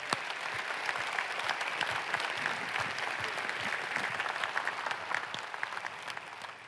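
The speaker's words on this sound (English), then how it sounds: "So let's give them a round of applause again." Audience at a company's annual business meeting gives a sustained round of applause, steady dense clapping heard from within the hall, with no talking over it.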